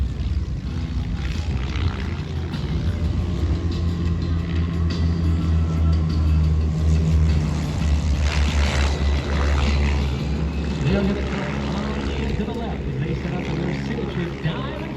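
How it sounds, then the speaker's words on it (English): Four Vans RV-3 light airplanes of an aerobatic squadron roll for takeoff at an airshow, a steady loud propeller engine drone swelling as they accelerate, with a public-address voice talking over it. "right now on the takeoff roll, the 4 Vans RV3s of the Vanguard Squadron"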